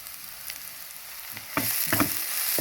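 Onion, crushed ginger and garlic, and curry leaves fry in a pan for a country-style chicken roast. A soft hiss swells into louder crackling sizzle halfway through, with a few clinks of stirring, close by.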